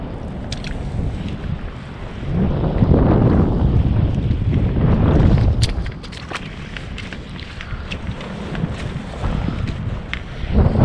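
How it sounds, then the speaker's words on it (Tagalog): Wind gusts at a seashore as the air turns cooler near sunrise: steady, loud buffeting roar against the microphone with surging swells and rustling, no talk. "Hangin. Lumalamig."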